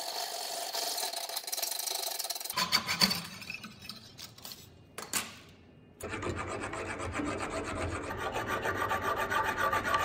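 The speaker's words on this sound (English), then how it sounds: "I'm going to clamp on this block to guide the file so I don't accidentally make the end of the slot square" Hand file rasping a slot in a metal workpiece with rough rhythmic strokes, a pause around the middle, then steady close filing again.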